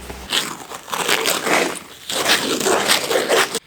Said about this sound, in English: I just discovered the zipper on my working boot is broken.